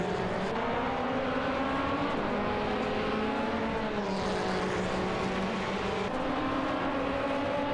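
Race car engines from a racing video game, a Lotus Evora GT4 and an Aston Martin Vantage GT4, drone loudly and steadily throughout, with pitch shifts as the cars accelerate and change gear; no talking.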